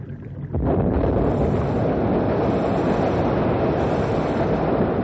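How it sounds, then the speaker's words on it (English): A dynamite blast breaking up a river ice jam in a radio drama, a sudden loud burst followed by a sustained roaring rumble of rushing debris and water that continues unabated. "We're all set now to blow up the jam."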